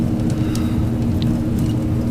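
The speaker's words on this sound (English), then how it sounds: "pull up on the yoke to do a little bit of aero braking and hit our reverses" Steady, loud, low engine roar from an ATR 72-500 turboprop using reverse thrust on landing in a flight simulator game, an unbroken rumble with no speech.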